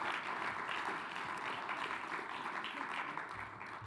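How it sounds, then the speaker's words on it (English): Audience at a Melbourne alumni panel event applauds a guest, a dense, steady wash of many hands clapping, moderately distant, fading slightly toward the end. "a round of applause for Amanda"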